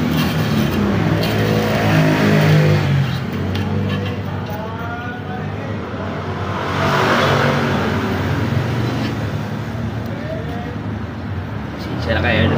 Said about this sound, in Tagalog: Pasensya na kayo sa ating video at medyo maingay. Kalsada lang tayo mga idol